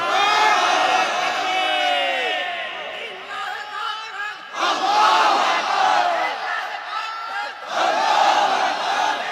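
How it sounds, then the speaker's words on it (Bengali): A religious gathering's crowd shouts takbir, Allahu Akbar, in loud massed call-and-response bursts; three big surges of chanting voices swell and fade, close and powerful, each separated by a brief drop in volume. "একটা তাকবীর দেন না একজন, দাঁড়ায় দেখি"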